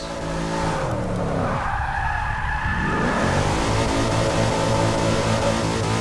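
A Chrysler 300 in a Forza racing game slides sideways with a long, loud tire squeal over its steady engine drone, the skid sweeping in pitch as it holds the drift.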